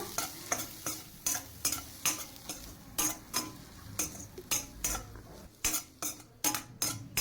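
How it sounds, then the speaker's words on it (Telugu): Snacks stirred and fried in a pan at home, with a spoon scraping and clinking in a steady repeated rhythm over a soft, continuous sizzle, close and fairly quiet, with no voices. "జస్ట్ అలా కాసేపు ఒక్క వన్ ఆర్ టూ మినిట్స్ కొంచెం అలా ఫ్రై చేసుకుంటే చాలు"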